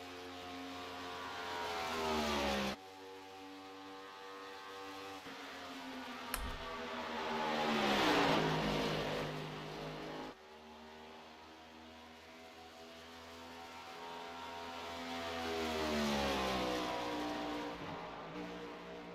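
A race car engine in the iRacing sim at Pocono roars and revs continuously, rising and falling in pitch as it upshifts and downshifts, with sharp gear changes marked by sudden drops, loud and close with no voices.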